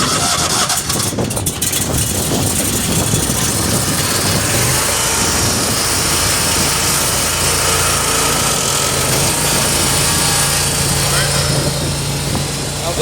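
A gas pressure washer engine is pulled into life and settles into a loud, steady running drone that persists throughout, with a rough burst of starting noise near the beginning.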